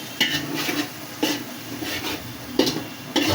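ACI Shahi biryani masala spices are stirred and fried in oil for chicken biryani, a spoon scraping the pan in about five irregular strokes over a soft, constant sizzle.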